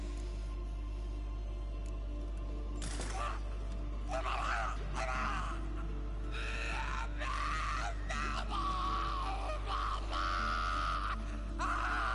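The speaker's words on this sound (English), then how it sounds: "Damn, he's proper screaming." A tortured dwarf in The Witcher 3 screams and groans in repeated anguished outbursts, loud and close over a humming background.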